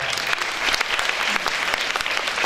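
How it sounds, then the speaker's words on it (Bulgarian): Audience clapping at a Bulgarian charity concert, a loud, continuous spread of applause filling the hall without pause, no talk over it. "поклон от мен към вас и аплодисменти за вас"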